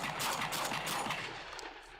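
A shotgun fired repeatedly during shooting practice: loud, close, rough blasts that run together into a dense, continuous barrage, easing slightly toward the end.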